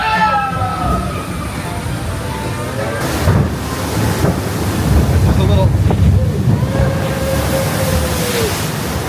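Water sloshes and splashes against a hull amid wind rumble, with a few brief spoken words and voices in the background.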